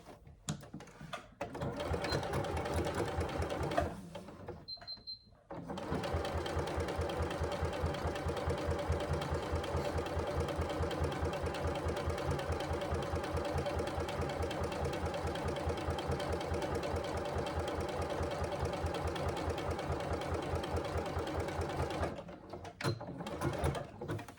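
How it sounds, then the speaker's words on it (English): A sewing machine top-stitches along the top edge of a bag pocket, running at a steady, even hum for about twenty seconds after a brief start and a short pause, then stopping near the end. "Now I'm going to top stitch just along the top edge."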